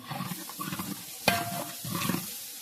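Chicken fried rice with green peas is stirred in a pan, producing a few brief scraping strokes and a sharp metallic clink midway, close and moderately loud, with no talk.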